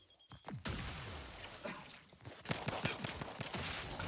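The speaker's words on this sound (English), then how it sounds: "Grenade explosion." In the video game The Outer Worlds 2, a grenade explosion booms amid a rapid crackle of gunfire, with sharp repeated reports continuing loud and close for several seconds.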